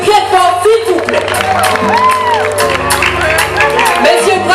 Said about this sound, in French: mesdames, je vous demande d'applaudir messieurs très fort